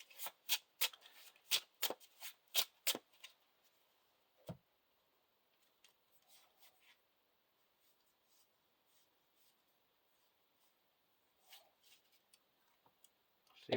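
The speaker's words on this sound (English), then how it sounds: "we get to shuffle the top card of our discard pile back into our counter deck" Playing cards shuffled for a Lord of the Rings living card game: a quick run of sharp riffling bursts up front, then a single snap, quieter handling rustles, and a last crisp flick at the end.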